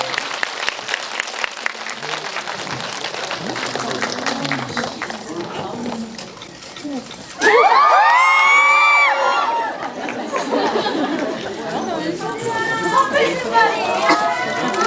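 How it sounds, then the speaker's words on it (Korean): Loud applause and cheering from a cinema crowd at a Korean film's guest visit event, with chatter and voices mixed in and a burst of shrill screaming cheers in the middle. "큰 박수 드리겠습니다"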